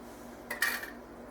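A spoon clinks once or twice against a dish of drained oil-packed tuna, a brief bright metallic tap close by against a quiet background.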